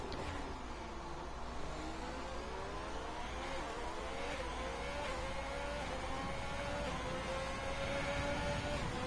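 Race car engines in a racing video game at Spa roar continuously, several cars revving with rising and shifting engine tones, loud and steady throughout with no talk.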